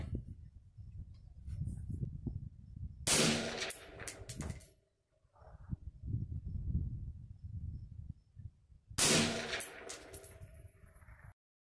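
Gunshots fired through a silencer at a shooting range using reloaded ammunition: two sharp, muffled cracks a few seconds apart, with a metallic ring after each. Low, rumbling wind and handling noise fill the gaps between shots.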